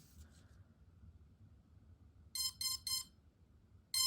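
A drone's Teensy Arduino flight controller powers on with three quick electronic beeps in a row, then one more after a short pause, over a faint low background hum.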